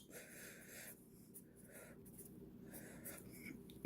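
Writing on a board, a soft scratchy stroke sound in short bursts with brief pauses, close and quiet over faint room noise.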